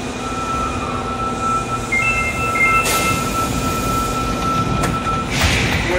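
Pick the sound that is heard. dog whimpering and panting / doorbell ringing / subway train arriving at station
subway train arriving at station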